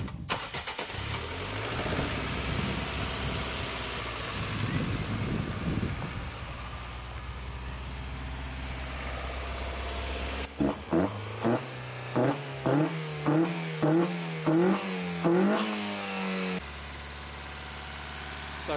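A Toyota Starlet engine fitted with individual throttle bodies cranks and catches, settling into a loud idle before a run of about eight sharp, evenly spaced revs that rise and fall, then drops back to a steady idle.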